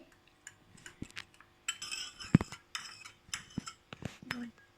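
Eggs beaten with a utensil in a bowl for a quick breakfast, with irregular clinks and scrapes against the bowl, close and fairly quiet, and no talk.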